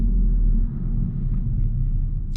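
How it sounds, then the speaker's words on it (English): Engine of a 2022 Honda Civic Sport running, heard from inside the car as a steady low rumbling drone with no talking. "It's not a great sounding engine."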